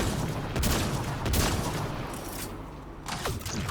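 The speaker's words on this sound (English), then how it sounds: "Why do you think I'm still shooting, Ryder?" Sci-fi gunfire rattles in quick bursts during a Mass Effect: Andromeda firefight, shots cracking in clusters with short gaps between volleys, fairly faint overall and with no talking.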